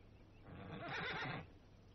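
A horse gives one faint, distant whinny that swells and then falls away over a quiet background, with no one talking.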